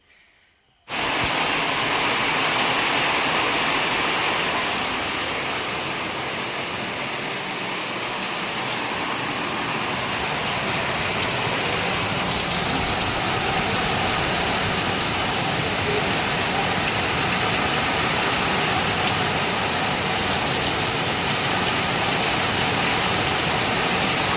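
Heavy rain pours down steadily and loudly, a dense unbroken hiss that begins abruptly and continues for the whole stretch, with no voices.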